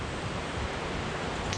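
Steady broadband wind roars across an open outdoor spot as the breeze strengthens, a continuous dull rushing with gusty low-end buffeting against the microphone, nothing else standing out.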